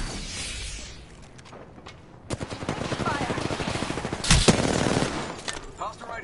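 Rapid automatic gunfire and bursts of shots in the Apex Legends video game, loud and dense with a sharp blast near the end, with a voice talking over the combat.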